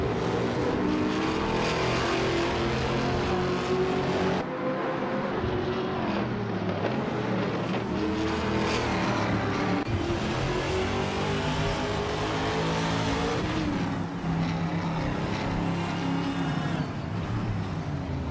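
Race cars speed past in a racing video game, a steady loud engine roar with shifting pitch and revving throughout, unbroken for the full stretch.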